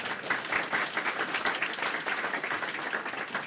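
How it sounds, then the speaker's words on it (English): A live audience at a science centre show gives a full round of applause, dense steady clapping from many hands filling the room throughout, loud and close with no pause. "Give yourselves a round of applause"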